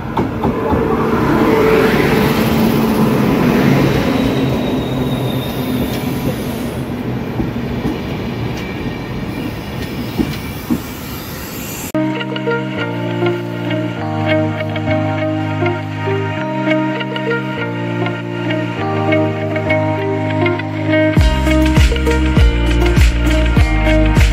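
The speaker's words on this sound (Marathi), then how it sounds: "ट्रेन आली मित्रांनो आपली" A train arriving at a station rumbles and clatters loudly along the rails, then gives way to steady, sustained tonal sounds with rhythmic clicking.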